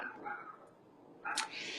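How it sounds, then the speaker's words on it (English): A couple of short dog barks from some distance away, with faint outdoor background between them. "there's dogs barking, walking by"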